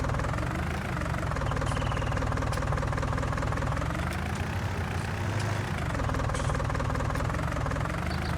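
Compact John Deere 4520 tractor engine in Farming Simulator 19, a steady idling rumble with a knocking, vibrating low-mid drone that holds loud and constant throughout, with no talking.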